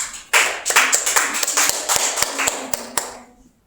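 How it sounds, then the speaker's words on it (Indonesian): Classroom applause for a student group: a short burst of many hands clapping close by, starting abruptly, holding steady for about three seconds, then thinning into a few last claps and fading out. "sekali lagi beri aplaus dulu untuk kelompok 1"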